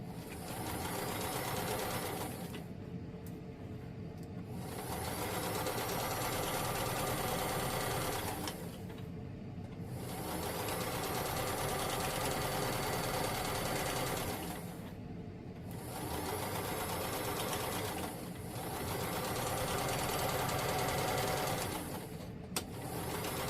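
A home sewing machine runs a second row of stitching in several sustained runs of steady whirring, broken by brief pauses, close and moderately loud with no talking.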